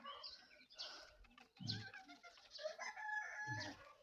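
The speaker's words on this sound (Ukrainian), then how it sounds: "Тут півні не миряться" Roosters and chickens call and cluck in a busy mix, with a crow rising among the clucking, fairly faint and somewhat distant.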